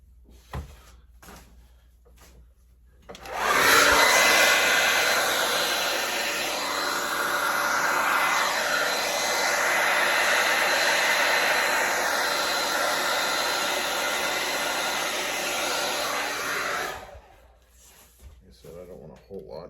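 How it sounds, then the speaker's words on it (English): A hair dryer switches on and blows with a loud, steady rushing whir for about thirteen seconds before cutting off, with faint handling noises around it. "So we'll get the hairdryer."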